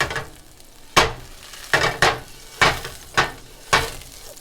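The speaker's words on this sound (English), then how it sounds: "we're throwing in 3 tablespoons of butter over medium heat" Three tablespoons of butter sit over medium heat on a stovetop, a soft low hiss broken by about six evenly spaced loud scraping strokes from stirring.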